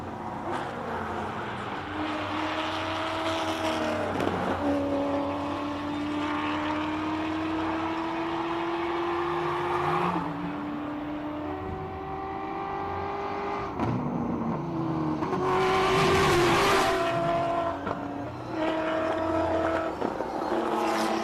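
An electric Mini and Dakar-spec Revo rally raid cars on off-road tyres at the SIMOLA Hill Climb, with engines droning and rising in pitch under acceleration, including a sharper, louder pass near the end, with no talk.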